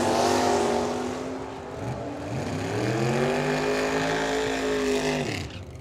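Mustang and Camaro drag cars launching side by side down a drag strip during a team race at Firebird Motorsports Park, their engines roaring loud with rising pitch sweeps through gear changes before fading away at the end.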